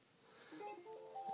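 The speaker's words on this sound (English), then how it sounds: "And there goes my phone." A mobile phone goes off with a tonal ring or notification melody during a trading card break, rising steady beeping tones that grow louder toward the end, heard alone without talk.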